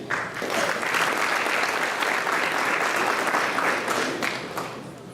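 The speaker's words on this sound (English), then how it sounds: "Let's give Jeevan Zucchi another round of applause." A dinner audience applauds in a large room, sustained crowd clapping that stays loud and continuous throughout, swelling slightly midway and tapering near the end.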